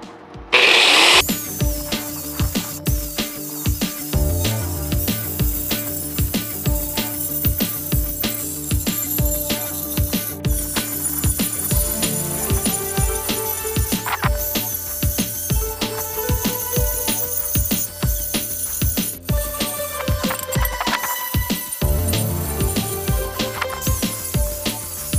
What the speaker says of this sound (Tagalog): So sa akin, grinder yung gagamitin ko